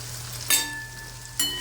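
Hyacinth beans stir-fried in a pan with tomato and salt make a soft, continuous sizzle, with two brief bright scrapes of a spatula, nearby and fairly quiet.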